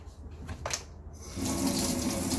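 A kitchen tap is turned on after a few faint mechanical clicks, and a steady, fairly loud rush of running water then fills the rest of the moment without any talking.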